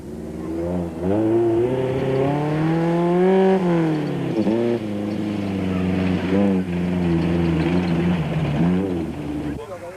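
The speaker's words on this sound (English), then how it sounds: "Lemmer and Kirstein were being chased by Hein Grobler and Charles Wolmerans in another Toyota Hilux." A Toyota Hilux races in the 1995 Baberspan 500 off-road race, its engine revving loudly and continuously, rising and falling in pitch as it speeds along.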